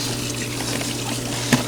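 Steady running water with a faint bubbling trickle as water fills a skimmer device to push out trapped air, one brief splashier gurgle near the end, close and continuous with no speech.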